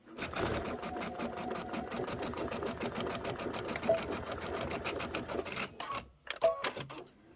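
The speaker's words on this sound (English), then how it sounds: "when I get to the bottom, I will back stitch" Sewing machine stitching down the side seam of a quilted reindeer tote bag, a steady close rapid needle chatter for about six seconds, then a brief back-stitch burst, with faint background murmur.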